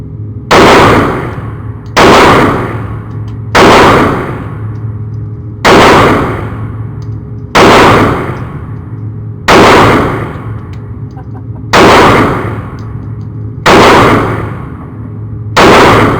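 Hellcat pistol firing rounds, eight loud, sharp shots spaced evenly about two seconds apart, each with a short ringing decay over a low steady hum.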